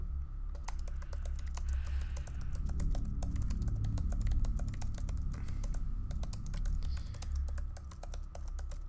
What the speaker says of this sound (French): Avec les petits bruits de clavier.